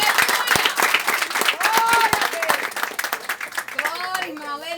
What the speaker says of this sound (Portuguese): Uma salva de palmas para Jesus nesta noite.